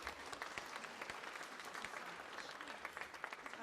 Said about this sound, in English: please give a round of applause once again for Diana